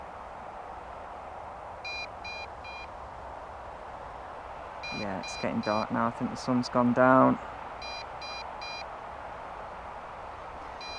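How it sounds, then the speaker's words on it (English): An MJX Bugs 3 Pro GPS drone gives short, thin electronic beeps in small repeated groups, heard faintly at intervals while a person talks in the middle. "Sorry about the beeping, guys, but that's what it's doing."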